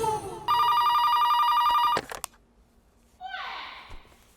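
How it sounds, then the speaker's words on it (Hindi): A telephone rings on an outgoing call, one long electronic ring tone lasting about a second and a half, followed by a brief click and a short electronic chirping sound, in a quiet room. "नीना जी को फोन लगा।"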